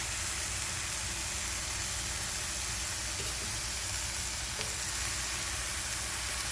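Mushrooms and a white onion sizzling in a hot pan, a loud, dense, continuous hiss with only faint stirring underneath, steady throughout.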